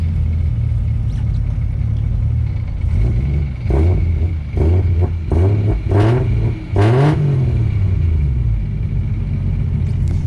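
A Toyota 1JZ engine fitted in a Nissan S14 idles loudly and close up, then fires off a series of sharp revs that rise and fall back to idle, several blips in a row.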